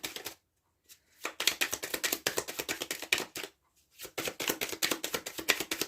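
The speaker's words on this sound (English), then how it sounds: "I'm just going to shuffle that again." Tarot cards are shuffled in quick riffling bursts, crisp and close, with two brief pauses between rounds of shuffling.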